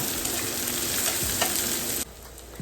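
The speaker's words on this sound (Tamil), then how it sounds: "இப்போ இந்த வெங்காயத்துக்கு மட்டும் தேவையான கொஞ்சமாக உப்பு சேர்த்து இதை நல்லா ஃப்ரை பண்ணிக்கலாம்" Onions fry with a little salt in a pan for potato masala, giving a dense, continuous sizzle with low scraping stirs, close and steady, before the hiss drops away abruptly near the end.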